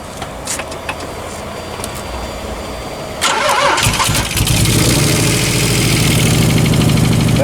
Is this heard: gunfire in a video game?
no